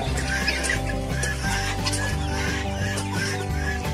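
A hen and her chicks clucking in a farmyard, a dense, loud layer of overlapping clucks and cheeps that runs without a break.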